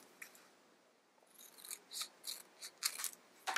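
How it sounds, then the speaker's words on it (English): Scissors snip through paper in a series of short crisp cuts, close up and quiet, following a few soft rustles. "Take my scissors."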